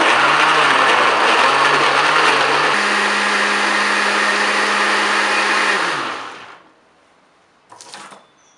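A kitchen blender whirs loud and steady while blending fruit and vegetable juice, the motor pitch settling partway through, then winding down to silence before one short final pulse.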